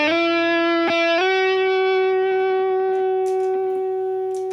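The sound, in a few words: electric guitar, full humbucker pickup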